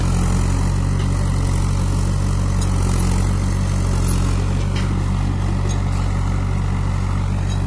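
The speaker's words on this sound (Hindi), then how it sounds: "महिंद्रा 475 ट्रैक्टर चल रहा भाइयों, और 12 तवा की हैरो है ये" A Mahindra 475 DI tractor pulls a 12-disc harrow, its engine a continuous, loud, steady low rumble close by without pause, with no voices.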